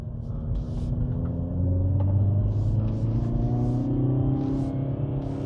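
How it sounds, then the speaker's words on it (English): A 2022 Hyundai Veloster N hatchback engine idles and revs with a deep, steady rumbling exhaust tone, rising slightly midway, with no talking. "The exhaust note on this car actually sounds really good."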